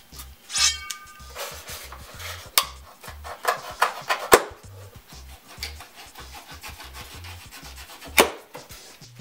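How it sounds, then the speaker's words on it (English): A knife slices Yamaha YHT-4920UBL home theater speakers free of their packing material, with close, scratchy rubbing and sporadic sharp scraping crackles at irregular intervals, no voices. "I'm gonna have to get my knife again to cut the speakers out of this package"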